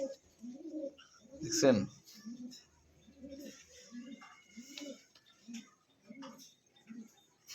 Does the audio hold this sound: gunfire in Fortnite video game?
no